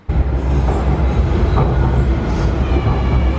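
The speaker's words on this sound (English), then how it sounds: "You see, this is a train." A DLR train at Canary Wharf, London, rumbles past close by with steady, loud low-frequency rolling noise and faint wheel hiss throughout.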